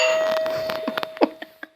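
A home doorbell sounds with a sustained ringing tone, joined by scattered light clicks and knocks in a kitchen, near and fairly clear, with no talk.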